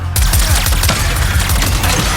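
Rapid bursts of game gunfire blast at monitors in Ratchet & Clank: Rift Apart, loud and continuous with dense crackling shots over a throbbing low rumble, with no talk.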